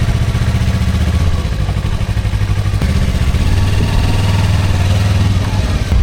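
A Yamaha motorcycle on a hot day at the seaside idles loudly and close up, a steady rough mid-pitched engine rumble with faint clatter throughout.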